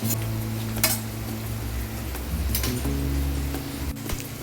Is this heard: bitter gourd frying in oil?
yes